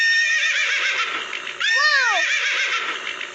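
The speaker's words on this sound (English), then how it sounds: "Where is the horse? Horse." A horse whinnies loudly and close, a long, shrill neigh whose pitch rises and then falls away, heard alone against a steady background.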